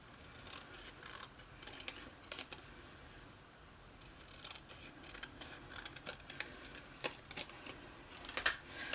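Scissors cut a piece off a square of card in a quiet room, giving a run of faint, crisp snips and clicks that grow slightly louder toward the end.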